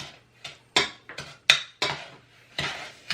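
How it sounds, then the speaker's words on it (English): A utensil stirring melted butter into brownie batter in a bowl, giving repeated clinks and scrapes against the bowl in an uneven rhythm, close and fairly clear with no voices. "we're just gonna put it in with the mixture and stir it all up"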